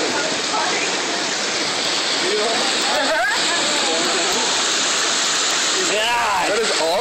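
Hail and meltwater gush loudly and steadily, a dense wash like a pouring waterfall, with people talking excitedly over it.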